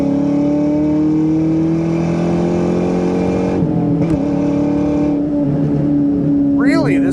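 A 2004 Ford Mustang Mach 1's 4.6-litre V8 roars and revs steadily up through the gears of its five-speed, loud and close, with a brief lull before the engine note climbs again.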